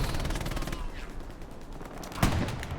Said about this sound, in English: He's a tough lad, but he's not tough enough to withstand a whole mounted MG34